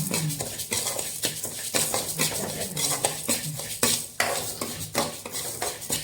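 Ingredients for pongal roasting in a pan until reddish, stirred with a metal utensil that scrapes and clatters against the pan in quick, repeated strokes, with a faint sizzle, close by.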